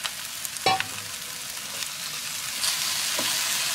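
Okra fries with browned onions in a pan for a Fiji-style Indian bhindi curry, a dense continuous sizzle with a couple of sharp clatters as the vegetables drop in and are moved.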